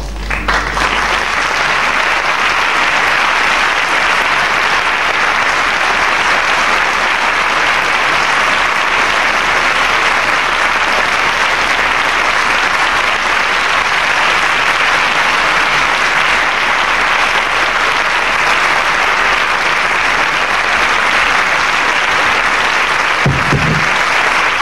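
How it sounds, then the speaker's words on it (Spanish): Sustained, loud audience applause fills an award ceremony hall, steady dense clapping from many hands that continues without break and fades slightly at the very end. "muchas gracias por los que me han aplaudido"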